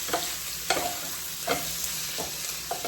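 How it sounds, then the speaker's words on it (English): Mushrooms fry in a pan while a utensil stirs them in four or five separate strokes, each scraping sweep rising above a steady, close sizzle. "Give that a stir."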